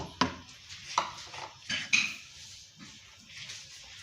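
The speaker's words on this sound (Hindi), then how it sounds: "अब चम्मच हिलाते रहना" Spoon stirring rice flour into milk cooking in a pan, heard as a few distinct metallic scrapes and clinks against the pot, close and fairly sharp, with softer stirring between them.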